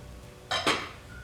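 A hot rice pot lifted with a kitchen towel gives two short metallic clanks close together, a pot-and-lid clatter in a quiet kitchen.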